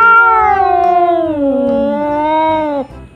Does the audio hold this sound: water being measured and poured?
no